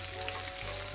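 Garlic, ginger and dried red chilies fry in a pan, giving a steady, soft sizzle and crackle throughout the short moment with no other sounds.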